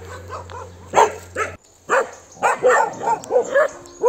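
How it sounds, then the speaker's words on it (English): Several dogs barking on a road in the Babuyan Islands, Philippines, a quick series of loud nearby barks and yips in irregular bursts with brief gaps between them. "More dogs."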